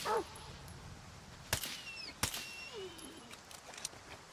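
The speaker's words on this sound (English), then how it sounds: "Hate that they made the dogs whimper and cry." Wounded dogs in S.T.A.L.K.E.R. 2: Heart of Chornobyl let out faint whimpers and cries at a distance, broken by two sharp, loud gunshot-like cracks.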